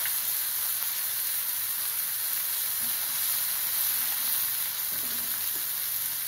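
Tomatoes sautéing in a pan with salt, giving a continuous bright sizzling hiss that holds steady throughout, close and moderately loud, with a few faint spoon or utensil touches.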